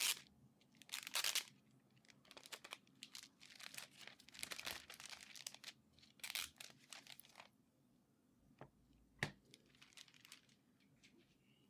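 Apple keyboard packaging crinkles and tears in bursts of rustling, with quieter gaps and a few sharp crackles, fairly close and without talk.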